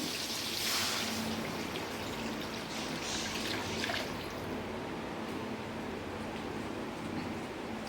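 Half a litre of water pours steadily into a pot, a continuous splashing rush that stays fairly even throughout, with no talking.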